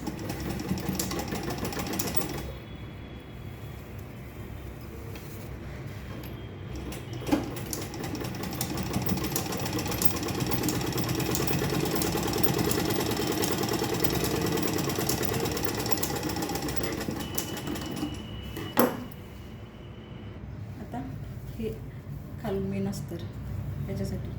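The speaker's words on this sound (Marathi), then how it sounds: "या भागावरती लगे डायरेक्ट असं स्टिच करून घ्यायचं" A sewing machine runs steadily for most of the stretch, stitching a purse with a continuous motorised whir and brief pauses. A voice talks over it.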